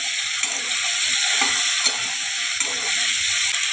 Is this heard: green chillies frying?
yes